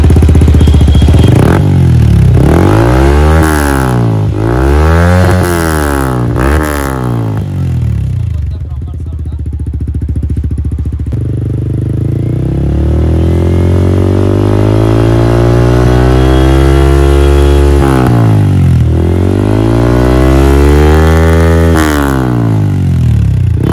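A Honda CBR 250R motorcycle fitted with a Yamaha R1 exhaust revs repeatedly up and down, with throttle blips in two bursts and a steady idle between them, loud and close.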